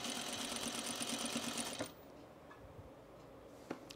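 A sewing machine stitches along a shirt front in a close, steady run for about two seconds, then stops as the bobbin thread runs out, leaving quiet room tone with a faint click.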